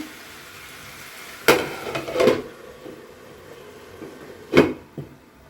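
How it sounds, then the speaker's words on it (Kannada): Chicken frying in a spice tempering for pepper chicken gives a soft, steady sizzle, broken by a few sharp clanks and scrapes of stirring in the pan, with no talking. "ಇವಾಗ ಚಿಕನ್ನ ಒಗ್ಗರಣೆನೇ ಚೆನ್ನಾಗಿ ಫ್ರೈ ಮಾಡ್ಕೊತೀನಿ"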